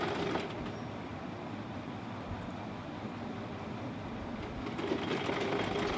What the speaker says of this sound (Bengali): ফিতা সেলাই কমপ্লিট।